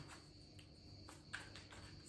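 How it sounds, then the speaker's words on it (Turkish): Faint crickets chirp steadily in the background, a thin high-pitched trill that pulses gently throughout, with no voices. "Cırcır böceklerin sesini duyuyorsunuz mu?"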